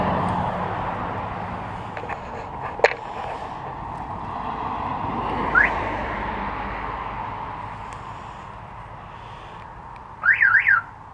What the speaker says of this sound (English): Main thing is the remote start is good. The alarm is good.